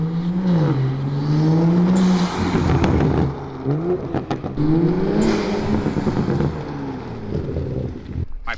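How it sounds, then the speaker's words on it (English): Toyota Supra fitted with an HKS blow-off valve, catalyst downpipe and RK titanium exhaust revving hard close by, with rising and falling engine pitch through repeated throttle blips and wind buffeting. "he probably has one of the best sounding Supras that I know of"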